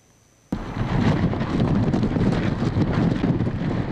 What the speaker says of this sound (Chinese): 在凌晨时分，桃枝的威力主要由风声体会得到